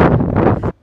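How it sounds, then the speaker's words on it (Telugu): Strong wind buffets the microphone near Mount Yasur volcano in Vanuatu, a loud roaring rumble in two gusts that cuts off abruptly. "విపరీతమైన గాలి అన్నమాట"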